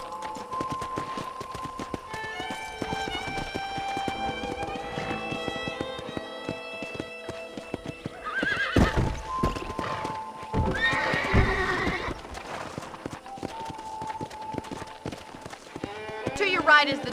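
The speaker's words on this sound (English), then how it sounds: "I picked out a fine horse for you." Horse in the Red Dead Redemption game clip-clops along, gives several loud whinnies and neighs midway and near the end, over steady game music and some talk.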